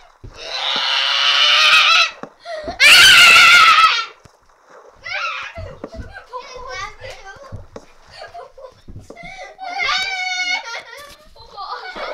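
A young child screams and cries in loud, strained wailing bursts over the first few seconds, followed by quieter sobbing mixed with adults talking nearby.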